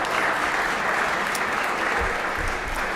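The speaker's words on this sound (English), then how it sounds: "Let's give them a big round of applause again for being here today" A legislative chamber audience gives a sustained round of applause for visiting dental hygienists, dense and even clapping from many hands that fills the room without pause for the full stretch.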